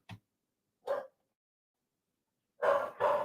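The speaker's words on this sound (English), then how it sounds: "My dogs are going nuts." Dogs bark in short separate bursts, one brief yelp, then a single bark, then two louder barks close together near the end, with silence between.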